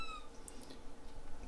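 A kitten in a boot-making shop gives a short, faint meow, heard over quiet room background with a couple of brief higher squeaks.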